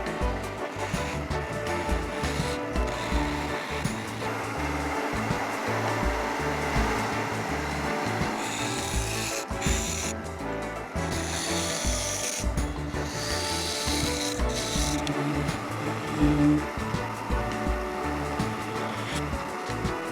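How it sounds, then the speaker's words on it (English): A small detail gouge carves a tiny wooden finial on top of a lidded box, giving a steady close scraping and rasping of wood that continues throughout with small irregular bursts and no talk. "Using my small detail gouge"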